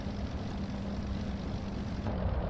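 A Globe Swift GC-1A, a small old propeller plane, runs in a flight simulator, giving a steady, moderately quiet engine and propeller drone with no talk.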